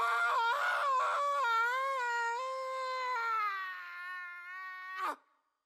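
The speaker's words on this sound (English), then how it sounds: "Blood-curdling scream." A long, drawn-out, high-pitched blood-curdling scream from a character in Final Fantasy XVI. It wavers loudly for about five seconds before cutting off abruptly, with no talking.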